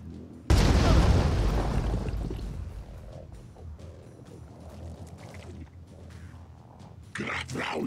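A frag grenade detonates in the tactical video game Phoenix Point: one sudden, loud, close blast with a long, rumbling decay that fades over several seconds, then a burst of further noise near the end.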